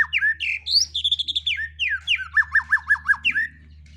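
A white-rumped shama (murai batu) sings close and loud, a varied run of clear whistles, slurred notes and a rhythmic series of repeated phrases over a low steady hum.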